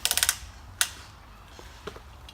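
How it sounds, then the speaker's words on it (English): A rope ratchet on a Sencomp volleyball net clicks six times in quick succession as it is pulled back, followed by a single sharper click and a couple of faint ones, close and alone. "On this Sencomp net, we have a rope ratchet. Simply clip it to the anchor point on the pole and pull back."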